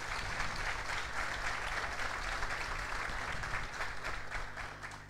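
A roomful of people at a football club's squad presentation applauds steadily and evenly throughout, a moderate wash of clapping with no pauses.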